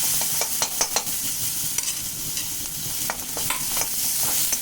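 Continuous crackling sizzle of tempering spices frying in hot oil over a lowered gas flame, with sharp pops and spatters scattered throughout and occasional stirring sounds.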